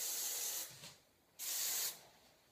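Hairspray from an aerosol can is sprayed onto a ballet bun in two close, hissing bursts of about half a second each, separated by a brief pause, with no talking.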